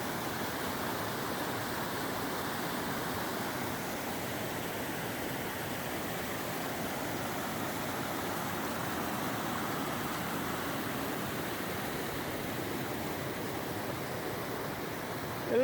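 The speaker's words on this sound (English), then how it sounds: "our first major stop was at Big Spring Creek Falls" Big Spring Creek Falls along a forest road, a steady, dense roar of falling water that holds at an even level throughout, with no voices.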